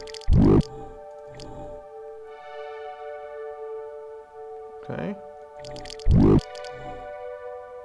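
Creature generators spawning monsters in an old video game make loud, low squelching bursts that bloom up in pitch, two big hits plus smaller pulses over a steady tonal game hum, with a brief spoken word.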